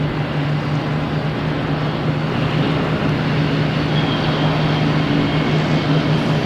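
A JetBlue airliner takes off from Boston Logan Airport, heading for Detroit, as a steady, continuous engine roar with a low hum that holds evenly throughout, no voices.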